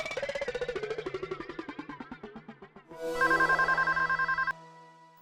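Telephone ringing in an electronics shop in the sitcom Taarak Mehta Ka Ooltah Chashmah: a rapid series of electronic ring pulses, followed by a brighter, louder repeating tone that stops abruptly.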